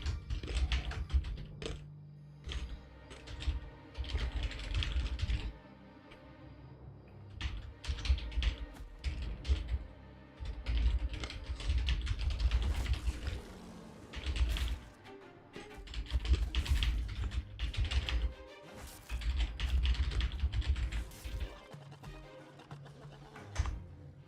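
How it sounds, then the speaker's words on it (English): Typing on a computer keyboard to send a chat message during an online game, close rapid clicking keystrokes in irregular bursts separated by brief pauses, with no talking. "I'm about to type in global chat though."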